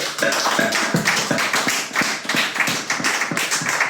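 A church congregation claps together at a Sunday service, a steady rhythmic round of hand claps that is loud and close, with no talking over it.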